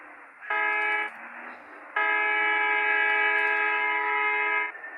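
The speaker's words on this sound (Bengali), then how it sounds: "ওই যে ট্রেন যাইতেছে।" A train in Bus Simulator Indonesia sounds a loud, sustained horn in two blasts, a short one followed by a longer held tone, over a quiet rumble of the passing train.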